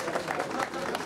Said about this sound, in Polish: Gorące brawa od Państwa.